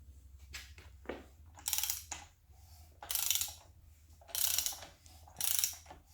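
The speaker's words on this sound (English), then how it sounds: "And you can hear the rings digging into the cross hatches in there." A diesel 4BD2T engine's rotating assembly turned over by hand during a rebuild, giving four bursts of scraping, ratcheting friction as the piston rings drag across the cylinder cross-hatching, close and moderately quiet with short pauses between.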